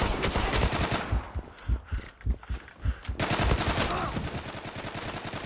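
Automatic gunfire rattles in the Zula online shooter, a loud burst followed by several spaced single shots, then another sustained close volley.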